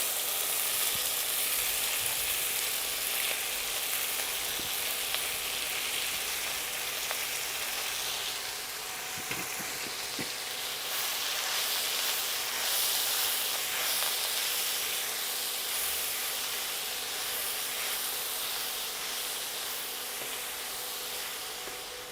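Chopped vegetables for Rajasthani radish dhokli sizzle and fry steadily in a pan, a continuous close hiss with occasional faint stirring knocks.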